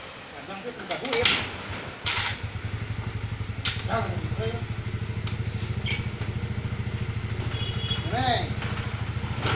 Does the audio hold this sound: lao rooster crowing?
no